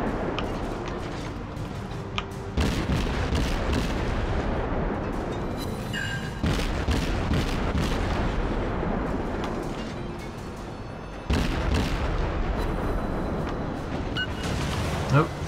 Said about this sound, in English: These shots are not going anywhere near him because of how quickly he's going.